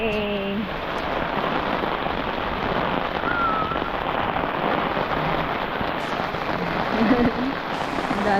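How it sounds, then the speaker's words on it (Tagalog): Heavy rain pours down steadily in a broadband hiss, close and continuous, with a few voices briefly audible at the start and faint talk later under the downpour. "Lakas sa ulan."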